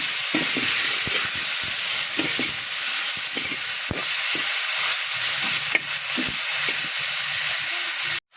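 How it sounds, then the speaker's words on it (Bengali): Coriander leaves and green chilies frying in a pan for a Bengali bata fish curry, a steady close sizzle with stirring scrapes running throughout, no voices. "হ্যাঁ এখানে ধনে পাতা দিলাম আর কাঁচামরিচ দিলাম, দিয়ে ভালো করে ভেজে নিচ্ছি।"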